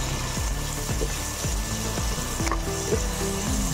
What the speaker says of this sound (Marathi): आता आपण कांदा भाजूया।